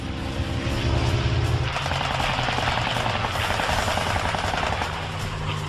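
An F4F Wildcat fighter's engine drones loudly before its machine guns open up in a dense, continuous rattling burst that carries on over the roaring propeller noise.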